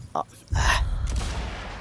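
A sniper rifle shot in the video game Sniper Elite 5 cracks with a sudden loud boom that rolls off in a lingering echo, preceded by a short breath-like sound.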